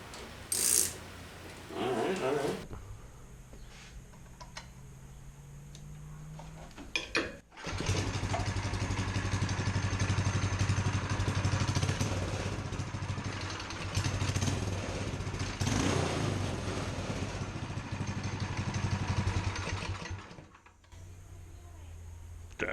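A four-wheeler fitted with an aftermarket muffler idles quietly, then its engine revs up into a sustained, buzzy exhaust drone for several seconds before dropping back to idle; the recording is fairly faint overall.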